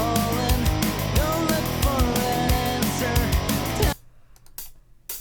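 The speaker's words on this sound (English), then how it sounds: "Next up, let's look at closed hi-hats." Programmed closed hi-hats in a pop punk drum pattern, tight ticking strokes over a dense band mix that drops out suddenly, leaving a few sparse hits.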